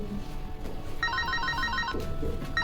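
A phone rings with an incoming call: a bright, repeating electronic ringtone of about a second, heard clearly over a quiet room, with the start of a second ring at the end.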